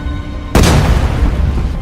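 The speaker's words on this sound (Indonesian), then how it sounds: "dari arah luar sebuah ledakan terdengar di mana sebelumnya musuh telah memasang bom" In the war film The Sniper, a planted bomb goes off with a sudden, loud, roaring boom that rumbles on and stays heavy to the end, with no one speaking.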